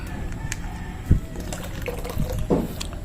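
Preservative and neutralizer liquids poured into a batch of homemade DIY fabric conditioner, giving brief liquid splashes and trickles at a moderate level with a few soft knocks, close by, no talking.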